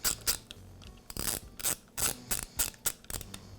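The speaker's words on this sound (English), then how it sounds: "I'll align the second nut and install the screw." Screws being turned into the stopper plate of a Makita band saw, heard as a close series of short ratcheting clicks and scrapes in uneven bursts, with no talking.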